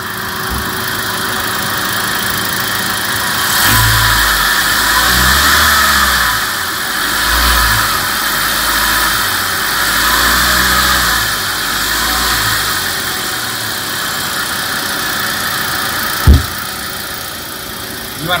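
A Daihatsu Terios or Toyota Rush engine idles steadily, then revs up several times in rhythmic bursts before settling back, ending with a sharp click.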